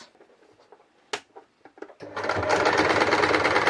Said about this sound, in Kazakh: Осы дайын болған құрағымыздың енді астынан айналдыра тігіп шығамыз.